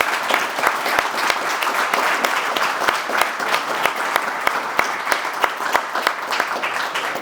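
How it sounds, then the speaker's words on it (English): Enthusiastic audience applause after a hemp industry panel session, sustained dense clapping with sharp individual claps standing out near the microphone. "Give yourselves a round of applause because you earned it."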